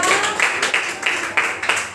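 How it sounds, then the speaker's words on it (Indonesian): Clapping from a classroom of students in an Indonesian school lesson, honoring a student group; sparse, irregular claps repeat about every half second, moderately close, with background room noise. "Tepuk tangan untuk kelompok 2."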